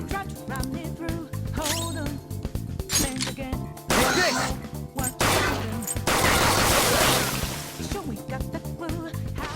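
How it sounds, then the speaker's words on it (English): Gunfire aimed at a shadow in Persona 5 Royal cracks out as rapid, loud, close shots. Bursts of impacts, shattering effects and whooshes pile up over the game's busy music. "Point it at a shadow and fire."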